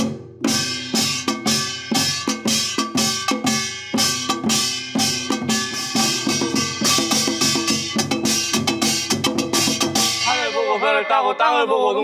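Rapid, loud Korean samulnori percussion performed on a TV quiz show, with clanging gongs and beaten drums in driving rhythm, ending with a held sung or wind tone.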